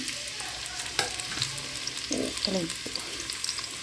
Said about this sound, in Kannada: ಈರುಳ್ಳಿ ಚೆನ್ನಾಗಿ ಸ್ವಲ್ಪ ಫ್ರೈ ಆಗಲಿ